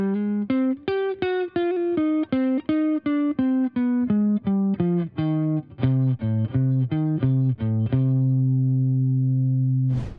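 Slow jazz blues line of single notes with a distorted, effected electric tone, played in a steady stepwise run that ends on a held low note, loud and close with no talk.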